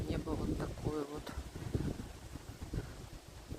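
Icy wind blowing outdoors in Adler on a cold day of about plus 14, a rushing gusty roar buffeting the microphone beneath someone talking throughout.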